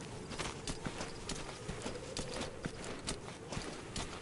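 Horse hooves clip-clop at a steady walking rhythm in Metal Gear Solid V: The Phantom Pain, close and continuous amid a noisy game soundscape.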